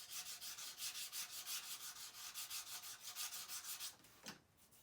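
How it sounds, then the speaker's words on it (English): A model rocket body tube being lightly scuffed with sandpaper: steady, rhythmic back-and-forth rubbing strokes close up, ending in a brief knock. "So just lightly sand it."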